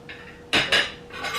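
Pumpkin chopped into small pieces with a knife, a few sharp clacks of the blade striking the board in an uneven rhythm, close and fairly loud with nobody talking.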